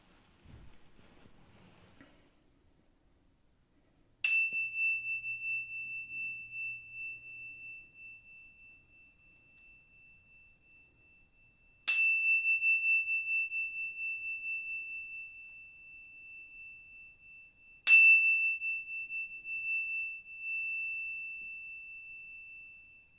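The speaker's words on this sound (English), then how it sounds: "So I'm just going to do 3 quick noises on the tingsha bells." Three bright, high-pitched tingsha bell chimes ring out one after another, each struck sharply and left to sustain and fade slowly in a quiet room.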